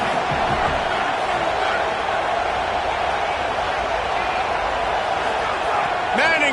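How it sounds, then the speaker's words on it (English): A college football stadium crowd during a Texas Tech game roars in a steady, dense, loud wash of cheering and noise that swells slightly near the end, with a commentator talking over it. "this crowd trying to help keep them there"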